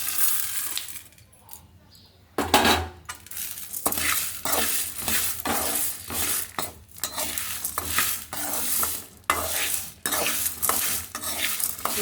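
Peanuts and seasonings sizzle in a hot pan with repeated stirring scrapes and occasional metal clinks, loud and close after a quieter opening, for a carrot idli curry-leaf karam.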